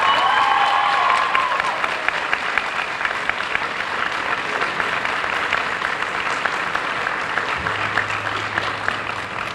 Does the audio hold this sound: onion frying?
no